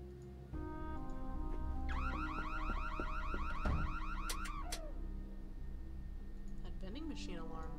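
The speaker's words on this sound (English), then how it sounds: "Machine alarm." An electronic machine alarm in the puzzle adventure game Nancy Drew: Secrets Can Kill, a loud, steady warbling tone that runs for several seconds over the game's background music and fades near the end.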